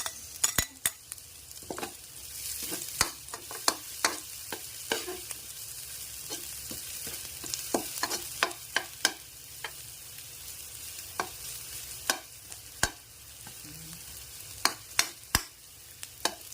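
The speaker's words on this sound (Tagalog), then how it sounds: "I-saute po natin yung sibuyas." Onion added to lightly browned garlic and sautéed in a pan for misua, a soft, steady sizzle punctuated by frequent sharp knocks and scrapes of the spatula.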